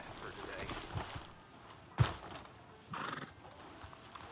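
In Red Dead Redemption 2, a horse neighs and snorts with hooves clip-clopping over soft ambient noise and faint voices, with one sharp thump midway.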